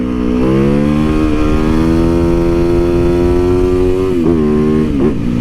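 A motorcycle engine revs loudly and steadily close by as the front wheel lifts for a wheelie, its pitch climbing smoothly and then dipping and rising again in short throttle blips near the end, during winter riding.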